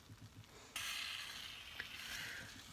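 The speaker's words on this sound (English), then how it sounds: "You hear that sizzling?" Fajitas hit a hot Pampered Chef stoneware pan with a sudden loud sizzle that keeps frying steadily, with one light clink partway through.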